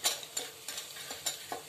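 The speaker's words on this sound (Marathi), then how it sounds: "आता आपला लसूण छान परतले गेला आहे, त्यात आपण 1 चमचा लाल मिरची पावडर," Chopped garlic and red chili powder sauté in a pan as a spoon stirs them, a faint frying hiss broken by about six soft, evenly spaced scraping strokes.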